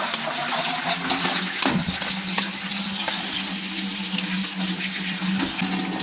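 Tap water runs steadily over cooked pasta in a colander, a constant rushing splash with occasional clatter from stirring.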